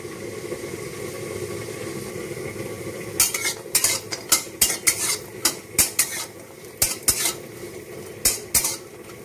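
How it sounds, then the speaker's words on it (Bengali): Bori lentil dumplings fry in hot oil, a steady low sizzle under a run of sharp metal spatula scrapes and clinks against the pan, repeated about a dozen times in an uneven rhythm, close by with no talk. "তেল গরম হয়ে গেছে, এবার বড়িগুলো ভেজে নেব।"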